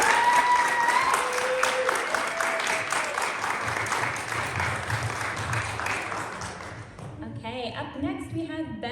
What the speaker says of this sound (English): So one more round of applause for our young poets.